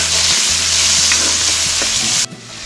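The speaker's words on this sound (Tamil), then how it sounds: "தக்காளி நல்லா வதங்கட்டுங்க" Tomatoes and green chillies sauté in a pan for a banana flower stew, giving a loud, steady sizzle with soft stirring scrapes that cuts off abruptly near the end, with no talk.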